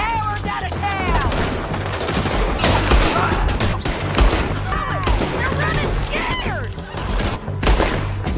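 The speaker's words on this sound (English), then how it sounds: "Let them have it, boys. Shoot them." Rapid gunfire fills a video game shootout, a dense, continuous fusillade of close shots and machine-gun bursts with overlapping shouts and voices throughout.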